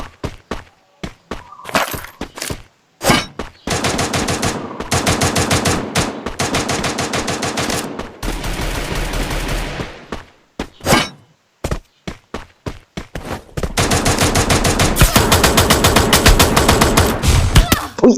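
Rapid bursts of automatic gunfire and single shots in a Free Fire battle royale match, loud and close, with dense sustained volleys between short sharp pops and no talk.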